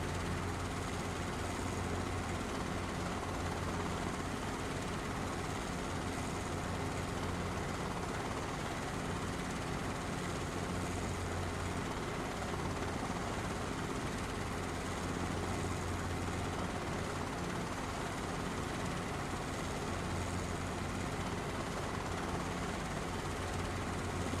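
Helicopter engine in a flight simulator game, a steady, continuous rotor and turbine drone that holds at an even loudness throughout with no speech.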